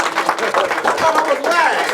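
A crowd at a Black author summit claps for the next speaker, uneven close clapping that runs under an announcer's voice talking throughout.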